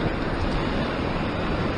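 Strong wind blows steadily at the seashore in Sydney, Australia, a dense, unbroken roar with no talk.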